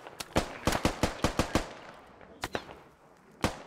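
Gunfire in the military shooter game Squad: a rapid burst of about eight sharp cracks, then scattered single shots after a pause, loud and punchy with a slight echoing tail.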